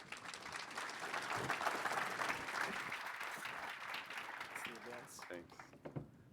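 Audience applause at a tech conference talk, a sustained wash of clapping from a large crowd filling the room, swelling then tapering off toward the end.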